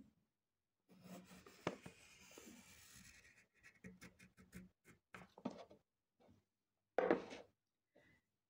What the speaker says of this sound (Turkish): Yuvarlak hafiften dışarı gelecek şekilde turuncu kağıdın üzerine daire çizeceğim.